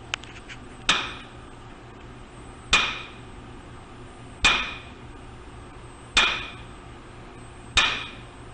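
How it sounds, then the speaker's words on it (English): A ball-peen hammer strikes a lead block five times at a slow, even pace, roughly one blow every two seconds. Each hit is a sharp, close, dull metallic knock that dies away quickly, with no voices. "This is the sound of a ball-peen hammer striking a lead block."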